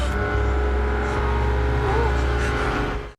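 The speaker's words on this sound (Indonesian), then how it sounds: "mobil tersebut melaju kencang ke arah Zara" A car engine roars steadily at close range, a loud sustained drone that cuts off abruptly at the end.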